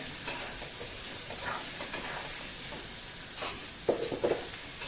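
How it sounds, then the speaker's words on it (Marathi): Chopped onion sautéing in hot tempering oil for Maharashtrian jhunka, with a steady close sizzle and occasional scraping stirs of a spoon in the pan. "थोडंसं मीठ घालायचं म्हणजे कांदा पटकन छान परतला जातो"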